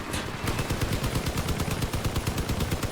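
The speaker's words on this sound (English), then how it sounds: "It's doing 40 damage while its machine guns are active." A machine-gun tank in the vehicle combat game Crossout fires a continuous, rapid burst of loud rattling shots that holds an even rhythm throughout, with no voices.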